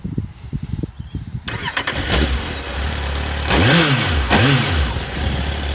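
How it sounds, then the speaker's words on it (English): A Kawasaki Z750 four-cylinder motorcycle engine with factory exhaust cranks briefly, catches, and settles into a steady, fairly quiet idle with a couple of short revs, close up. "I'll start the engine up now."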